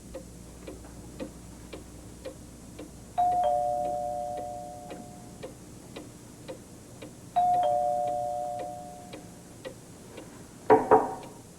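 A doorbell chimes twice, several seconds apart, each tone ringing out and fading, over a quiet, steady clock ticking, ending with a short clatter.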